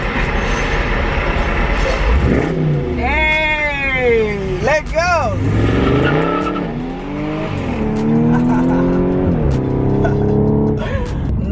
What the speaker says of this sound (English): Rev your engine!